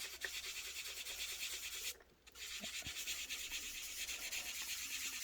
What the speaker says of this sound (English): As I said, it's very easy to sand.